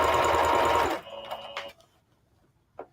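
A sewing machine runs loud and steady as it stitches fabric while a skirt is turned into palazzo pants. It stops after about a second, leaving faint clicks and handling noises.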